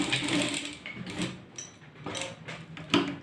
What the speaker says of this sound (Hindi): तो हम यहाँ से सिलाई स्टार्ट कर रहे हैं।